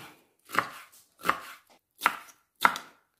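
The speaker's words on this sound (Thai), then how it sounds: "เห็ดหูหนูยายก็จะหั่นเล็กๆ แบบนี้ค่ะ" A knife chops wood ear mushroom into small pieces, four crisp, evenly spaced strikes on a cutting board, close and clear with no talking.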